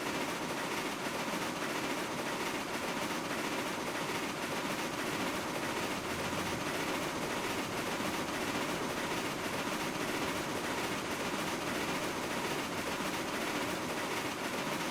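Heavy 100-car train rolling in the railway game Railroads Online, a constant low, dense rumble with faint rhythmic clatter, steady and fairly quiet throughout with no voices.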